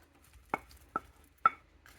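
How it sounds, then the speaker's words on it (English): Sausages being chopped on a board for a slow cooker: three or four separate knife thuds, about half a second apart, close and fairly quiet, with no talk. "So I'm going to chop them up and throw them in the slow cooker."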